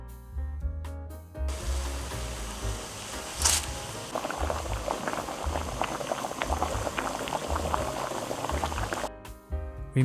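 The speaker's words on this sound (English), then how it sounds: "if you don't want to wait, just boil it." Water comes to a boil in a pot for cooking pad thai rice noodles, a dense steady bubbling and hiss close by that runs for several seconds between brief clanks.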